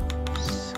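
Quick, light keystrokes tapped on a wireless mini keyboard, a handful of soft clicks in fast succession, close and clear with no talking.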